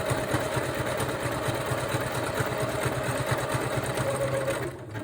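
A sewing machine stitching fabric for a DIY prayer journal runs in a fast, steady mechanical whir with a regular rapid needle rhythm, loud and close, then slows and stops at the end.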